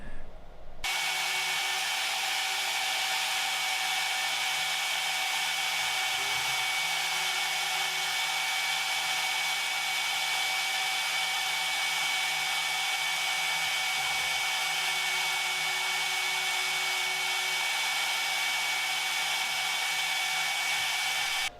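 Small engraving end mill cutting on a CNC mill, a steady high-pitched whine with constant hissing cutting noise throughout, loud and unbroken from start to finish.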